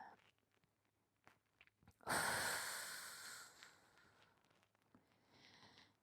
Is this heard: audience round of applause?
no